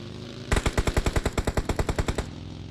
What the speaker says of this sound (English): There go the bullets flying.